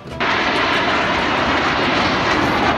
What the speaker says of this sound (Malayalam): എയർ ഷോ വളരെ ഗംഭീരമായിരിക്കുന്നു.